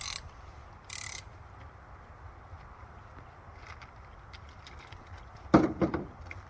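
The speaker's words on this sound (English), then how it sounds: "Cooler ratchet. That's kind of neat." Ratchet clicking in short bursts while a new Woodmizer LX55 sawmill is unpacked, a few brief mechanical clicks and one louder rattling burst near the end over a low background rumble.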